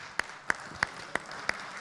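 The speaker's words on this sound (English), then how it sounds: "A huge round of applause," An audience at the Festival of Ideas 2023 applauds: sharp claps land at an even, steady pace over a soft, constant wash of background noise in a hall.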